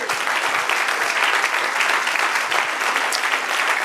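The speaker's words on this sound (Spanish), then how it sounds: "Dale un aplauso" A church congregation applauds in a dense, continuous burst of clapping that holds steady and close throughout, with no speech over it.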